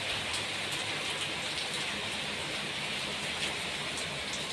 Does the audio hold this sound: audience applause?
no